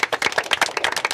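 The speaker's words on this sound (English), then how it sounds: "Remorseful applause." Clapping from a small group of players wrapping up a multiplayer strategy game session, dense quick handclaps throughout, fairly close and unaccompanied by speech.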